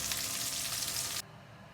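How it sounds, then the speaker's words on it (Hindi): Okra (bhindi) frying in oil gives a loud, steady hiss and crackle that cuts off abruptly partway through, leaving a quieter background hum. "तो अब तकरीबन 5 मिनट आपने इसको फ्राई करना जी दोस्तों।"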